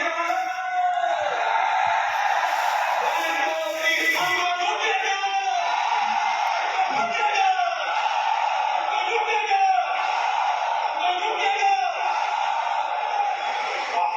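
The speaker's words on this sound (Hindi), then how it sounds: "इतनी चीख हम, इतना एनर्जेटिक लोग, इतना एक्साइटमेंट" Loud crowd at a direct selling event cheering, whooping and yelling continuously, with bursts of shouting voices rising and falling throughout.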